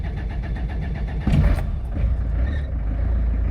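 The warm diesel engine of a 1990 Citroen C25 motorhome cranks and catches with a loud burst, then settles into a steady, rough running rumble nearby, its belts slipping slightly.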